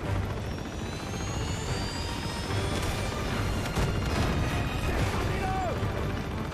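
A helicopter in Uncharted 2: Among Thieves makes a steady, dense roar with rumbling and gunfire-like thuds mixed in, loud and continuous throughout, while a player talks over it.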